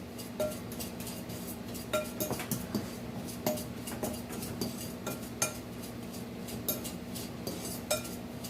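Metal spoon scraping and clinking against a bowl while stirring applesauce muffin batter, a steady run of light taps and scrapes over a faint kitchen hum.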